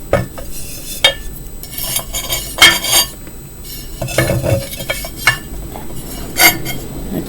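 Terracotta pot tops clinking and knocking against each other as a DIY terracotta heater is set up, a series of sharp close ceramic clinks and scrapes scattered irregularly over a soft background.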